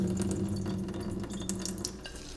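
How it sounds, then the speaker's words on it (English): Rinse water sloshing and pouring out of a pot of washed rice as it is drained, with light watery splashes and faint clinks of the pot over a steady low wash of sound. "I'm going to try to drain it without losing rice."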